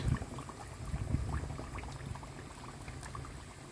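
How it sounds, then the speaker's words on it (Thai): Spring rolls deep-frying in oil make a soft, continuous bubbling and crackling, fairly faint and steady throughout. "เริ่มทอดปอเปี๊ยะแล้วค่ะ"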